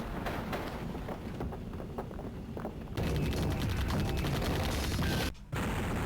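Sustained gunfire rattles with heavy booming blasts mixed in from the Sega CD game Mighty Morphin Power Rangers, continuous and loud, briefly cutting out near the end before resuming.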